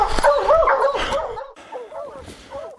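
Hounds on a Montana mountain lion hunt bark, yip and whine excitedly, several dogs close by in a rapid, uneven burst, loudest at first and then quieter.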